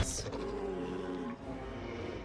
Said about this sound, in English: Oh god, Blight Wolves.